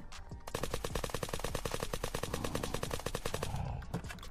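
Rapid automatic gunfire in the Unturned video game, a dense, loud stream of shots in quick even rhythm that runs for several seconds before stopping.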